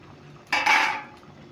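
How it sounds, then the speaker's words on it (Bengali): A lid goes onto a cooking pot of meat simmering in added water, making one brief metallic clatter and scrape that rings out and fades quickly, with no speech. "এবার আমি একটু ঢাকা দিয়ে দেবো"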